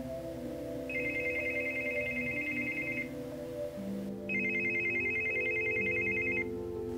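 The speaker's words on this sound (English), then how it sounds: "But that phone just won't stop ringing." A telephone rings in two long, warbling bursts, each lasting about two seconds with a short gap between, over a steady low musical drone.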